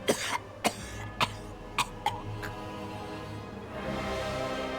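A character named Sindri coughing violently in the fantasy game Pathfinder: Wrath of the Righteous, a series of about six harsh, rapid coughs in quick succession, close and fairly loud, ending in a breathy rasp.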